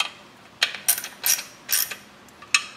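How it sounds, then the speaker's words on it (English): A tiny ratchet clicks in several short bursts of a few quick pawl clicks each, separated by pauses, as bolts on a front-wheel-drive clutch are snugged a couple of turns at a time. The clicking is close and fairly quiet. "I have a little teeny tiny ratchet, and I'm just gonna do a couple turns here."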